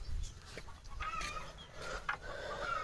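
Chickens on a small rural farm cluck in short, scattered bursts at close range, with a few sharper calls over a steady outdoor background.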